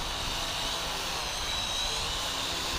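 A small Feilun FX122/FX137 RC helicopter flies at full throttle in the wind, its rotor and motor making a loud, steady, high-pitched buzzing drone that continues without a break.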